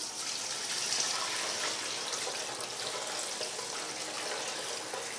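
Liquid is poured slowly and continuously over garlic during traditional Romanian Christmas food preparation, a steady close hissing flow that holds evenly without pause or voices.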